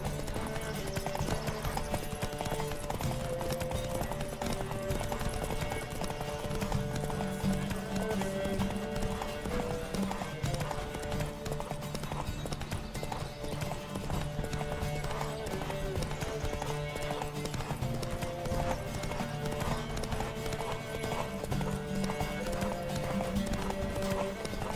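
Roach galloping in a race in The Witcher 3, rapid continuous hoofbeats pounding close and loud over a steady musical score, with voices briefly heard.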